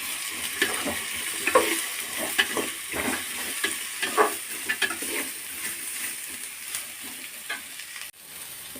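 Masala sizzling and frying in oil for chicken chops, with a steady crackling hiss broken by frequent spoon stirs and scrapes against the pan, close and continuous with no talking.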